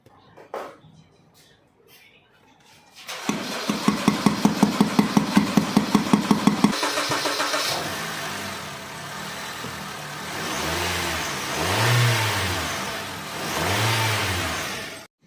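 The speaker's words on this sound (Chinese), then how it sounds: "大家看车辆已经成功启动了，证明就是油泵的问题" A car that would not start, with a faulty fuel pump under a cover beneath the handbrake area, cranks with a fast rhythmic whir, catches and fires up, then revs in several rising and falling surges, close and loud.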